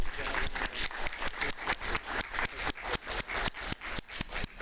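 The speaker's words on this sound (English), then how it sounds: "let's give them a round of applause for everything they do" City council meeting audience applauding community group leaders, dense clapping with sharp, regular claps standing out, sustained and fairly close.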